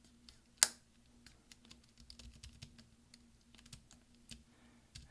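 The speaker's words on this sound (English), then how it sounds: "You'll hear lots of snaps." Snapping of the right Shift key clips being pressed into place on an Early 2009 13-inch MacBook Pro, one sharp loud click followed by many softer scattered taps and clicks close up.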